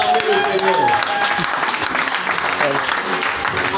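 A church congregation applauds to acclaim the Lord at a Christian worship gathering, sustained loud clapping from a large crowd, with voices mixed in.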